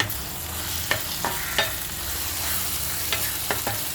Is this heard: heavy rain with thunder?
no